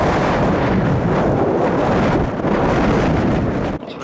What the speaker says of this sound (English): It's a bit bloody windy again.